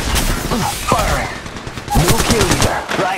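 Rapid bursts of automatic gunfire in the mobile shooter Apex Legends Mobile, loud and close, with repeated shots crackling across the whole stretch and no talking.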